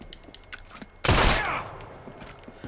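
A single loud pistol shot in Assassin's Creed Syndicate, a sharp close crack with a short echoing tail, over quiet game ambience.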